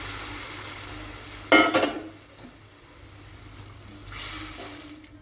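Hot water hits a pan of frying egg and cauliflower curry with a sudden loud hiss that fades into a low simmer, followed by a faint later splash.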